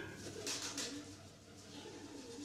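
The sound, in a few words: pigeons cooing under the roof, radio play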